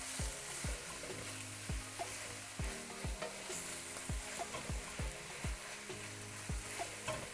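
Minced garlic sautéing with spinach in a pan, a soft continuous sizzle broken by a regular series of sharp spatula taps and scrapes, close but fairly quiet.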